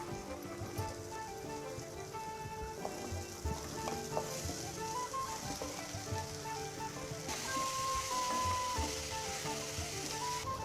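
Boiled potatoes go into a pan of spices frying with turmeric and salt for Mumbai vada pav filling, a steady broad sizzle with stirring scrapes running throughout, louder toward the end.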